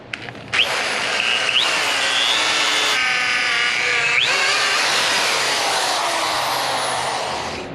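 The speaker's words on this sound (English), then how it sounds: "I'm going to drill the pilot hole first." A power drill whines loudly and steadily as the bit bores a pilot hole into wood, its pitch shifting slightly as it bites deeper.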